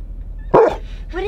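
A dog by the water in western Florida lets out one sharp, loud bark followed by a softer yip, close by over a low background hum.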